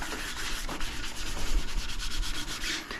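A Scotch-Brite pad scrubs back and forth across a ski base, a steady close abrasive rubbing with quick rhythmic strokes and no voices.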